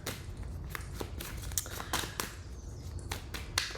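Tarot cards are shuffled by hand in a series of quick, crisp riffles and snaps, close and fairly quiet over a low background hum, with no speech.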